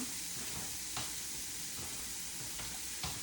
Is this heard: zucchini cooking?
yes